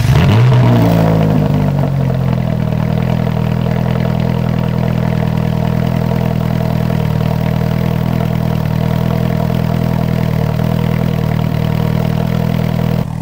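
A Ferrari 458 Italia V8 fires up with a loud rev burst, then settles into a steady, deep, close idle that holds without change.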